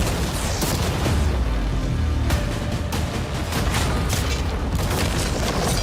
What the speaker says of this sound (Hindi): अब हम तुम्हारी नई यॉट पर कैनन्स को शूट करने वाले हैं।